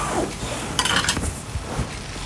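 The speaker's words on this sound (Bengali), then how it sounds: "একটু নাড়াচাড়া করে দিচ্ছি" A spatula scraping and clinking against a pan while okra fry is stirred, a few metallic scrapes and knocks over a steady background hiss.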